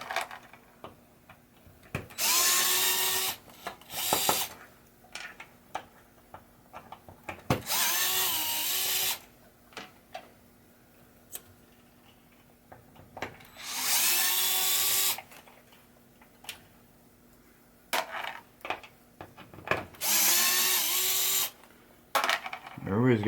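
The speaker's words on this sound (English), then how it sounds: "So now we got my electric screwdriver." An electric screwdriver whirs in several short bursts while removing a pop bumper from a 1978 Stern Wild Fyre pinball machine, with clicks and handling noises between the bursts and a steady hum underneath.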